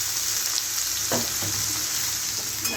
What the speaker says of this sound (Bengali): এবার আমি লাউগুলোকে ভেজে নেব।